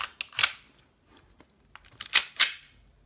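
Several sharp gas-powered shots from an Army Armament 1911 airsoft replica pistol, two separate cracks followed by a quick pair, with soft mechanical clicks between and no talking.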